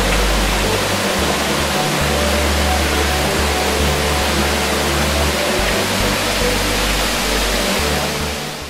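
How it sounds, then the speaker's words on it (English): Water from an aeration and degassing column pours into an aquaculture head tank, making a loud, continuous, rushing hiss with no break. "After the water percolates through the aeration and degassing column, it flows into a head tank"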